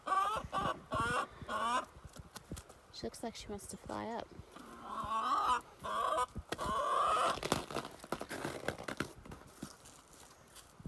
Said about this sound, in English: Oh, there's another chicken.